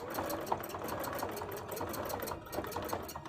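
A sewing machine running steadily and stitching thread for machine art, with a fast, even mechanical chatter close up that continues throughout.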